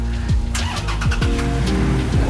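A Toyota Tacoma pickup's engine runs loud and close, its pitch repeatedly rising and dropping as it revs or shifts gears in a steady, unbroken drone.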